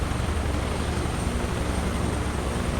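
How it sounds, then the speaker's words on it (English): Helicopter rotor and engine in Microsoft Flight Simulator 2024, a steady, dense droning whir with no talk over it. "That rotor sound is mint."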